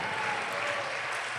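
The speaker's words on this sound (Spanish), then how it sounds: "¿Cuántos pueden darle un aplauso al Señor y alabarle?" A church congregation clapping in praise during a Spanish-language service, a steady broad wash of applause heard at a distance and fairly soft, unbroken for the short stretch.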